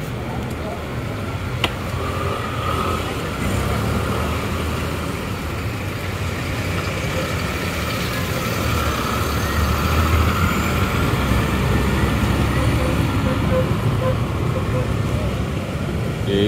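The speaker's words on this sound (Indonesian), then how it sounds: "Dan Garuda Mas Montana Ribbon Jet Bus 5 tujuan Ponorogo" A Garuda Mas Montana Ribbon Jet bus pulls out of a bus terminal bound for Ponorogo, its engine rumbling steadily amid traffic noise and a brief air-brake hiss, with a voice talking over it.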